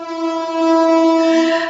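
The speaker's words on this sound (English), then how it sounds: "This train was going to Hyderabad." Train horn sounding one long, loud, steady blast for under two seconds, with a rich stacked tone that swells slightly and then holds before cutting off.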